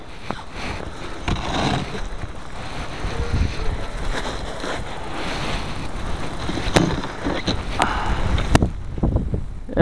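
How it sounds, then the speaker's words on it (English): Wind blowing through a snowy blizzard, a steady broadband rush with gusty swells and a few sharp knocks near the end, heard alone without talk. "Yeah, and the wind is blowing."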